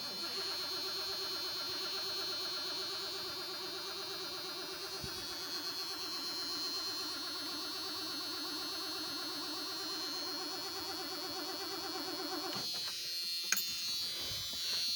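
A 1976 Ford Gran Torino engine is cranked on the starter without firing, giving a steady, buzzing whir that runs evenly for about twelve seconds, then stops and leaves a few faint clicks.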